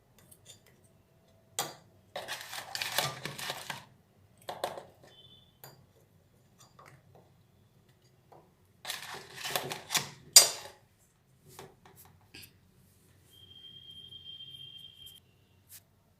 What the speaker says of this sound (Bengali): এবার এই লঙ্কার যে মাখিয়ে রেখেছিলাম এগুলো আস্তে আস্তে শিশির মধ্যে দিয়ে দেবো